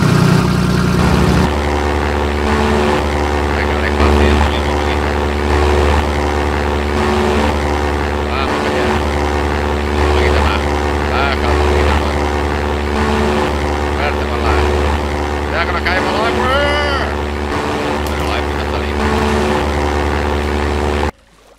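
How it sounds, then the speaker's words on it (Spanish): Minecraft Feed The Beast modded airplane with a propeller engine drones steadily and loudly, a constant low hum with a few shifts in pitch, before the craft crashes and the sound cuts off abruptly at the end. "Estrella el avión."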